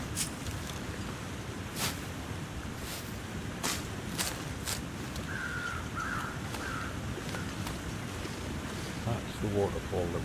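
A waterfall rushes steadily in The Long Dark, a constant broadband hiss that runs quietly throughout, with a few sharp clicks and brief faint chirps on top.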